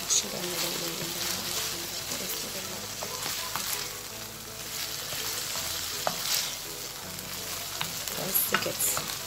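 Chicken liver and gizzards sauté in a pan, giving a steady close sizzle broken by scraping stirring sounds, with a person talking now and then.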